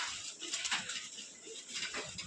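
Pigeons with clipped wings coo and flutter close by in a short burst of soft murmuring calls over a rustling, noisy background.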